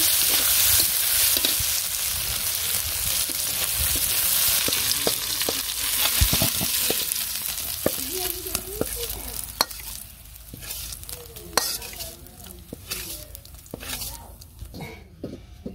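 Cucumber pieces fry with cumin in hot oil in a pan: a loud bright sizzle at first that gradually softens, broken by repeated spatula scrapes and clicks against the pan.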